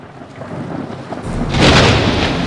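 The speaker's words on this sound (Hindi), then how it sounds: "एक भयंकर तूफान आया और वे डर गए कि वे डूबने वाले हैं" A thunderstorm's rumble builds into a loud, heavy roll of thunder halfway through, swelling over a steady wash of rain and holding strong to the end.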